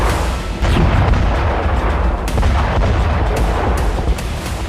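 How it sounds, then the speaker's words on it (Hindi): Explosion set off by a Ratel ground drone carrying a 35 kg payload to blow up a bridge, heard as sustained loud booming and rumbling with sharp cracks throughout, in the manner of heavy gunfire or shelling. "रातेल ड्रोन से इस तरह से धमाका किया।"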